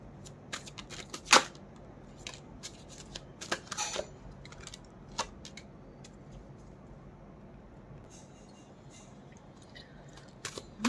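Tarot cards are shuffled and drawn in soft, scattered flicks and a few sharper slaps, faint and close, against a quiet background.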